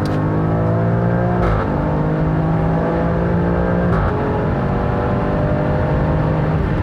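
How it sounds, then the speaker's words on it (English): Alfa Romeo Stelvio Quadrifoglio in race mode pulling hard from about 100 to 180 km/h, engine note climbing loudly through the revs with two sharp gear changes, heard close and sustained without talk. "so that was 100 kilometers to 180 kilometers, and that was some serious sound there, right?"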